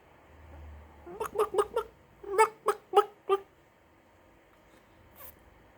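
Someone imitates a chicken with quick, clipped clucks in two rhythmic bursts of four or five, close and clear, with no other talk.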